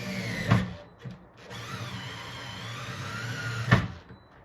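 A battery-powered drill with a dying battery, used while screws go back into a Pengo arcade cabinet: two sharp knocks frame a sustained whirring motor run that sounds strained and uneven, close by with no talk.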